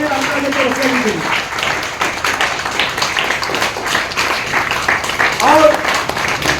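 Audience at a cricket academy training session event applauding continuously, a dense, steady clatter of many hands heard under someone speaking loudly over it.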